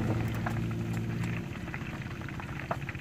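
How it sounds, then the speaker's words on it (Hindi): Fish deep-frying in oil at a roadside stall in Kingra on Sialkot Road, a loud, steady bubbling roar close by with a low rumbling hum beneath, easing slightly partway through. "अभी फ्राई का काम जारी है।"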